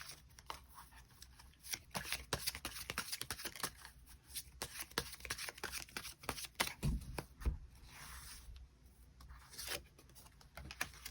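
Tarot cards are shuffled and drawn close up, giving quiet crisp riffling bursts and soft slaps in an irregular rhythm with brief pauses between them.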